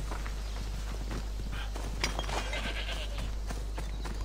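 Sheep bleating in the open-world game Assassin's Creed Odyssey, several short calls over steady background ambience, with faint hoof-like footsteps mixed in and no talk.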